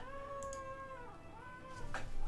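A cat meowing nearby, one long drawn-out wavering meow followed by a shorter second call, clear and tonal over low background noise.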